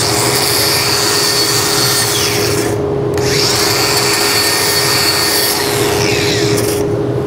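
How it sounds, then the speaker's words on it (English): A wire wheel on a power tool scrubs a fresh weld bead, a loud continuous abrasive grinding and rubbing that runs steadily, drops out briefly partway, then resumes. "Give her a bump with the wire wheel."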